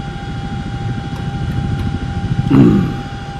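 A Chinook twin-rotor helicopter flies at Middle Wallop, producing a steady rapid low rotor thumping with a thin engine whine that swells briefly near the end.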